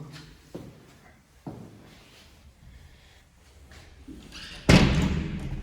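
An interior toilet door in an apartment for sale in Karacabey, Bursa, shuts with a loud close slam near the end, after a couple of softer thuds and knocks, with no talk over it.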